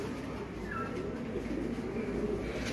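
Soft, low pigeon cooing murmurs continuously beneath steady background noise, close by and fairly quiet, with no talking.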